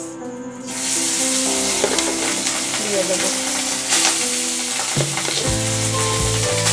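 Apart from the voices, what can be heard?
mixed rice frying in ghee in a wok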